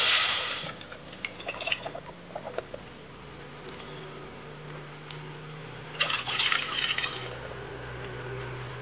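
Two and a half cups of water poured into a pot in a home kitchen, a soft, steady trickling with a louder splashing burst toward the end, no talking.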